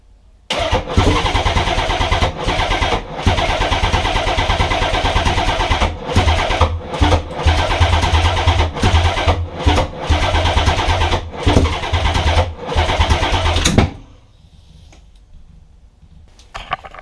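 Nissan 300ZX twin-turbo engine cranking over repeatedly with a rapid rhythmic churn and brief stutters, loud and close, never catching, then stopping into near quiet.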